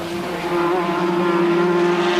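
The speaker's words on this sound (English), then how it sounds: "just touring round by his standards in the Williams Honda V6 engine" A Williams Honda V6 Formula One race car engine at the 1986 Australian Grand Prix practice session holds a steady, loud, high droning whine, rising slightly in volume partway through, with no talk.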